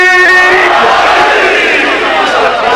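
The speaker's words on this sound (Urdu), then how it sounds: "مل کے نعرے حیدری." A large crowd at a religious gathering in Multan shouts the slogan Haidari together in one loud, sustained unison chant that fills the space and fades slightly at the end.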